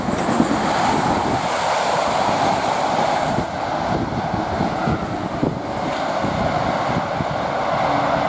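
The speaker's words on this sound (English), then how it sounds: "A lot of wind." Heavy wind buffeting a microphone beside a railway line at Nuneaton on the West Coast Main Line, a loud continuous low rumble with gusty fluctuations throughout; no voices.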